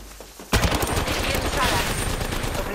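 Rapid automatic gunfire in Apex Legends breaks out abruptly after a brief quiet moment and continues as a dense, loud, sustained burst of shots to the end.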